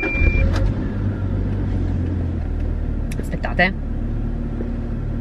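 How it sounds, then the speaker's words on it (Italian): A parked car starts and its engine settles into a steady low idle rumble. Someone speaks briefly at the start, and a short voiced chant cuts through near the end. "adesso l'accendo nella speranza che la macchina fotografica stia ferma e vi faccio sentire cosa fa questa macchina"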